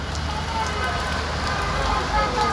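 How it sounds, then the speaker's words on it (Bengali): Rain falling outside a home makes a continuous, even hiss of drops with a low rumble beneath, steady throughout. "বাইরে বৃষ্টি পড়তেছে"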